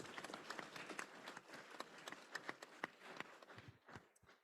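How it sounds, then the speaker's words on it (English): Scattered clapping from a small conference audience welcoming a speaker, faint and uneven with distinct individual claps thinning out toward the end. "can we give Alex a round of applause?"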